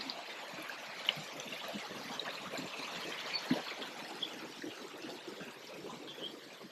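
A river near a campsite flows and trickles in a steady, moderate wash, with a few small splashes and clicks rising above it now and then.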